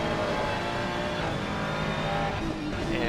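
Ferrari race car engine roaring on the Misano circuit in a sim racing game, a dense continuous drone of several cars close together, steady and loud for the whole stretch with a hint of tire noise.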